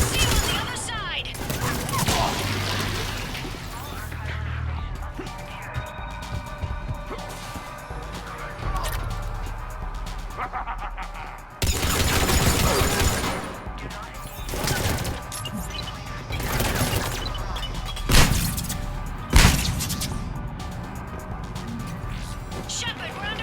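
Gunfire in Mass Effect Legendary Edition comes as bursts of shots and crashing impacts throughout a firefight, loud and close, mixed under frequent voices talking.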